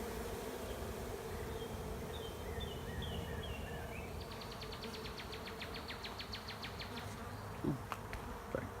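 A honey bee swarm moving into an empty hive on a driveway outdoors, a faint continuous hum of many bees with no talk.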